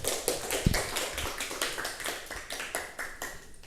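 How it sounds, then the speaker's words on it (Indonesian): A classroom of students claps together in a steady, rhythmic beat, about four claps per second, held for several seconds at moderate loudness with a single low thump near the start and no talking. "Tepuk tangan buat mereka."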